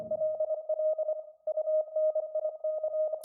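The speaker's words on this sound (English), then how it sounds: "It's played by this synth." A synth sounding a steady single tone in a Morse code rhythm, short and long beeps in repeated patterns with a brief pause in the middle, loud and clean.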